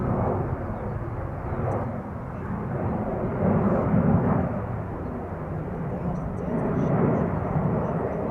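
An airplane at Schiphol Airport makes a steady broad roar that swells and eases slightly throughout, heard from a distance as a continuous engine rumble with no talk.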